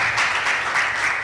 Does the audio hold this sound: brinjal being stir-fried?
no